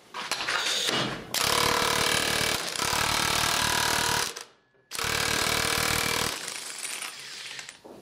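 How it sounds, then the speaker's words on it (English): A pneumatic impact wrench hammers at an old nut clamped in a vise, loud and close, in two long continuous rattling bursts separated by a brief pause, with lighter rattling at the start and end. "Let's finish it off with this rattle gun."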